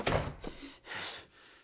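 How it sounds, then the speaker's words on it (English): A door thuds shut in the Red Dead Redemption video game, a soft thunk followed by quieter shuffling and muffled room tone, fairly close and faint. "Come in, and shut the door."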